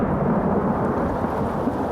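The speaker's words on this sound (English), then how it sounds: "When it's coming down like this, you find the closest pine tree and get out of that rain, because, well, lightning too." Heavy rain pours down in the Colorado mountains during a storm, a dense, loud, continuous hiss with a low rumbling undertone like distant thunder, no speech.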